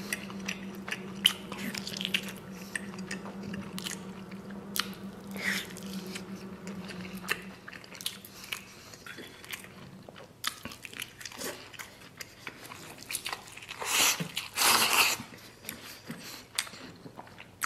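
Wet, crunchy biting and chewing of braised pork knuckle eaten with rice, close to the mic and steady for many seconds, with small squishy mouth sounds and a louder rustling burst near the end.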